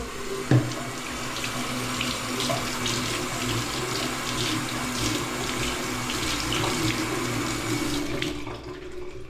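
Steady running tap water splashes into a sink while a Swedish dishcloth is rinsed under it, a continuous close hiss and patter that stops abruptly near the end.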